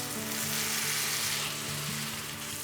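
Tomato sauce and broth poured into a hot pan set off a loud, dense, steady sizzle that holds evenly throughout, with a faint low hum beneath.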